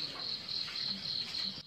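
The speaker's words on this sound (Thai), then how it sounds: "ฟังเสียงจิ้งหรีดเรไร" Steady, high-pitched chirring of crickets and cicadas at night in a garden near Phatthalung, Thailand, a continuous pulsing drone close by with no voices.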